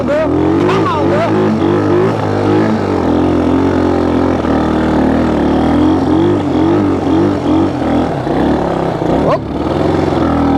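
Honda XL175 dual-sport motorcycle ridden through snow, its engine droning and revving steadily throughout with pitch swells as the throttle changes, close and loud, while a rider talks over it.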